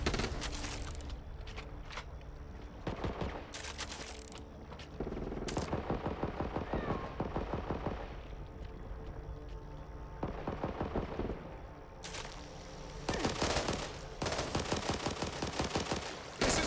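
Rapid bursts of gunfire, machine-gun fire and volleys of shots at a firing line, loud and close, coming in repeated clusters with short pauses between them and no talk.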